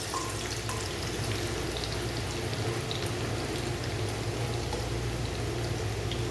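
Garlic sizzling in hot cooking oil for chicken kinamatisan, a steady dense crackle and hiss that runs unbroken at even loudness, with no talking.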